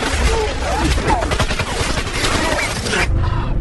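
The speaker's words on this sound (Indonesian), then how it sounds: "Andre langsung menembaknya dan menangkap pria tersebut." Gunfire in an action film about a border sniper battle: a rapid burst of crackling shots with shattering debris, loud and dense for about three seconds before cutting off.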